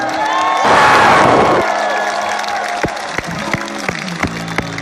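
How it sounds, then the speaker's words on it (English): A concert crowd at a rock festival show breaks into a loud surge of applause and cheering that swells briefly, then fades to scattered claps and shouts. "Give yourself a round of applause"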